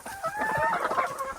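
A handsome backyard rooster crows close by, one strong, drawn-out call with a rising and falling tone running the full length of the moment, with no voices.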